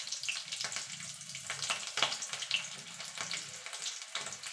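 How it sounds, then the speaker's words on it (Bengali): Nigella seeds and green chillies fry as a tempering in hot oil, giving a steady close crackling sizzle with small pops and a few brief louder spits throughout. "এবার ফোড়নটা একটুখানি ভালো ভাজা করে নেব"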